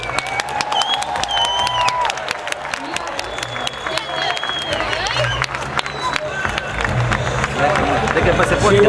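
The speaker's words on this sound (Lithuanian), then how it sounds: "Jūsų aplodismentai." A crowd at a stunt show applauds and cheers for the stuntmen, steady broadband clapping and shouts that swell toward the end, with a voice over a loudspeaker partly audible.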